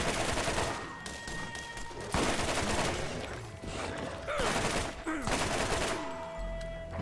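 Turret gunfire in the video game Borderlands rattles in dense, sustained bursts with brief gaps, loud and close, with game effects and a faint voice mixed in.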